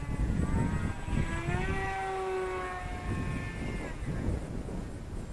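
Electric motor of a Volantex Ranger G2 FPV glider throttling up in flight, a steady whine rising in pitch and then easing off, heard over constant wind rush and rumble with no talking.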